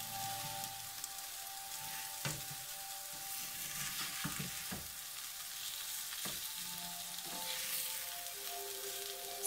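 Vegan scramble pieces sizzle and fry steadily in a pan, a constant crackling hiss broken by a few sharp clicks of a utensil, with no talking.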